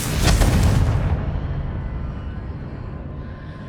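A single loud Confringo explosive spell blast in Hogwarts Legacy, a close, heavy boom that rolls out into a long fading rumble with no talk.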